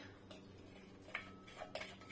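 Garlic paste (dersa) goes into a frying pan of oil left from frying liver for Algerian kbida m'charmla, with a few soft, close utensil clinks against the pan over a quiet background, no talk.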